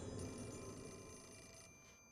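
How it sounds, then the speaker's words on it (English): Phone ringing in the horror video game Fatal Frame 4, a faint continuous ring buried in a dense, rumbling ambient background, with no speech. "I do not want to read this while listening to the goddamn phone ring."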